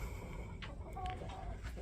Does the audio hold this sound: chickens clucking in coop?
yes